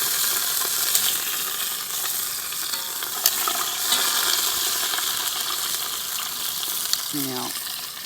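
Lamb shanks frying in hot oil and being flipped, a dense continuous sizzle up close with a few sharp metallic clinks and taps over it.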